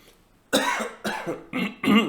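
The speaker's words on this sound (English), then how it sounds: "My cough will stop." Four harsh coughs in a row, close and loud, each a short rough burst with brief pauses between.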